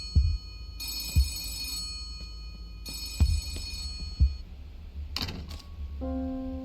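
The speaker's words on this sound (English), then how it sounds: "Suddenly the phone on Shaw's desk starts to ring." A desk telephone rings in a wintry wartime office in Gerda: A Flame in Winter, with two short rings separated by pauses, then a brief chirping tone near the end under low ambient hum.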